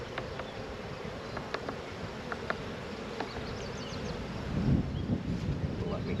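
Bees buzzing around a hive during a spring split, a soft steady hum with scattered nearby buzzes rising slightly toward the end, faint and close.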